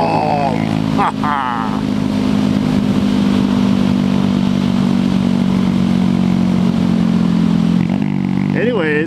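A Honda Grom motorcycle ridden around a lake, its engine droning loudly and steadily close by with wind buffeting, and a brief rise in revs near the start and the end.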